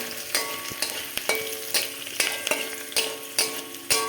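Garlic and slit green chilies fry in oil with curry leaves while a spatula stirs them in regular scraping strokes about twice a second over a constant close sizzle, with no talking.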